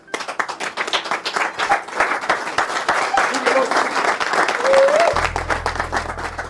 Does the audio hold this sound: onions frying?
no